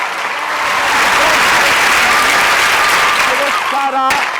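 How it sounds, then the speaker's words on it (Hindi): A studio audience on a live kids' game show applauds loudly and steadily with dense, continuous clapping. A brief tonal musical flourish and a sharp hit rise near the end. "सारा हमारे पास आ रही है आपकी बहुत सारी तालियों में"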